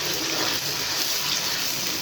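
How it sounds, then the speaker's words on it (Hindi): Water poured into a pan of frying spices, including cumin, for a village-style potato and eggplant curry, giving a steady, close, broadband hiss and rush that lasts the whole moment without any talking. "मसाले के साथ हम थोड़ा पानी भी डाल देंगे"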